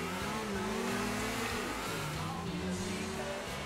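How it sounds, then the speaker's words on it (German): Cars in GTA IV rev and whine with a faint tire squeal, the engine pitch sliding up and down in a steady, continuous stretch without talk. "lass mir mal die Reifen quietschen und qualmen jetzt"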